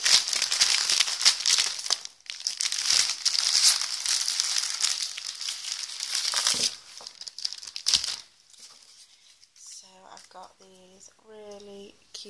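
Paper packaging with a strip of paper across it is torn and crinkled open, a loud, continuous rustling and ripping close by that fades to quieter handling, followed by a few soft tonal chimes.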